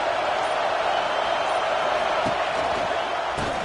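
Stadium crowd at a football game roars in a steady, dense wall of cheering and noise, loud and sustained throughout with no break.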